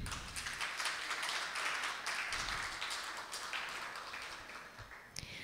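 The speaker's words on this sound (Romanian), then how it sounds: "Pentru toată această implicare, vă rog aplauze." Audience clapping at an outdoor light and folk music festival, a steady wash of many hands applauding together, fairly loud and continuous with no voices over it.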